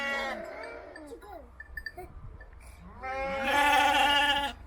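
A lamb bleats nearby, a wavering cry at the start and a longer, louder bleat near the end, with faint shuffling in between.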